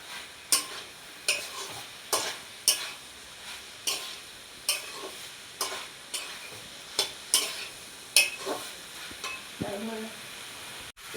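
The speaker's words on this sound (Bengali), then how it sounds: "এবার আমি ভেজে রাখা ডুমুর ও আলুগুলো ঢেলে দেবো। এটাকে আমি এবার ভালোভাবে কষে নেব।" Figs and potatoes are stirred into a pan of prawn masala, a spatula scraping in regular strokes about once a second over a steady sizzle. Near and clear, with no talk.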